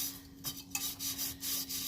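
150-grit sandpaper scrubs back and forth around the rim of an epoxy tumbler, making a steady raspy rubbing in uneven strokes with short pauses, under a faint constant hum.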